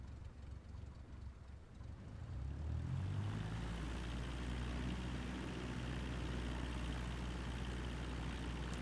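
Aircraft engine in Flight Simulator 2024 during taxi, a steady low drone that swells and rises in pitch after a couple of seconds, then holds loud and continuous.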